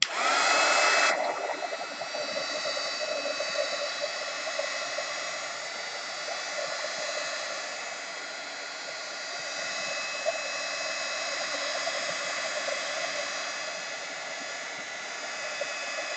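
A hair dryer blows to dry water-soluble colors on an art journal page, a steady loud whoosh that runs unbroken for the whole stretch after a brief stronger burst at the start.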